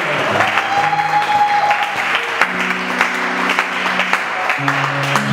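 A church congregation applauds and cheers in steady, dense clapping over sustained keyboard or organ chords.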